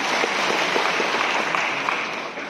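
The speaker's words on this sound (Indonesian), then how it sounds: "Terima kasih, tepuk tangan untuk kita semua." Dense, continuous applause from a large audience at an anniversary celebration of Bali's village credit institutions, held at an even loudness, slightly easing off toward the end.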